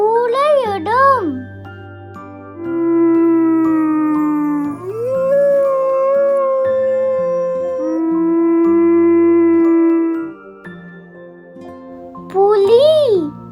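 A wolf howl from an animal-sounds rhyme for children: long rising and falling howling tones held across most of the clip, loud and close, with short sung vocal phrases at the start and end over soft music.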